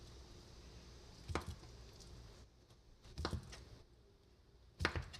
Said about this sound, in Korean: 저는 크기가 좀 넓고 길고 도톰하게 썰었어요